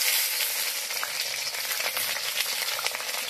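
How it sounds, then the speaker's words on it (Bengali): Okra sizzles and crackles steadily in a wok of hot oil, a dense continuous frying hiss with small pops throughout, close and alone with no voices. "এবার ভেন্ডিগুলো ছেড়ে একটু ভেজে নেব।"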